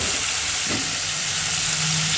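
Salt-and-turmeric prawns frying in hot oil in a home kitchen give off a continuous, close, even sizzle with a faint stirring sound partway through.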